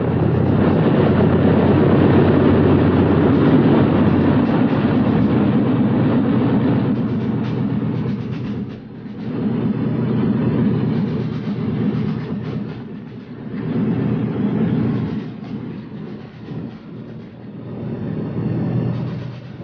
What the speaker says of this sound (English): The 4th Hercules had landed and now taxied up to the old terminal.